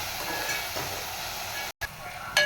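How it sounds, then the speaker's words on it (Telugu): Onions and green chillies fry in a pan with a light, steady sizzle, broken by a brief silent gap and a small clatter near the end. "ఉల్లిపాయలు, పచ్చిమిరపకాయలు ఇవి కొంచెం కలర్ వచ్చే వరకు వేస్తాము."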